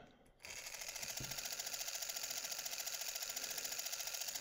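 A small toy motor turns its drive gear on a Snoopy classic race car model, giving a faint, steady, rapidly pulsing whir that starts abruptly after a brief click and runs on without a break.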